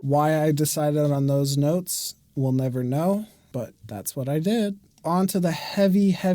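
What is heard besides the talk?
None of the usual background noises is heard.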